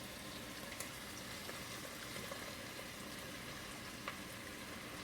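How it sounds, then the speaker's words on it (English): Torn mushroom pieces sauté in a pan with a soft, quiet, continuous sizzle, broken by a few faint pops and crackles. "I'm going to saute these around until they get soft for a few minutes"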